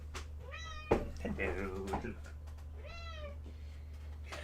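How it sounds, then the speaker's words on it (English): A cat meows twice, close and clear, with short rising-and-falling cries. A person says a brief greeting between the meows over a low steady hum. "We've got some meow."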